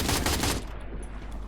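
Gunfire in the mobile shooter Free Fire MAX, played on an Android emulator: a dense, loud burst of rapid shots that fades into a rough, noisy tail after about half a second.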